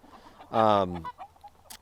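A single loud cluck from a nearby chicken, then quieter scattered calls and rustles in the background, in an open-top pen holding chickens and roosters.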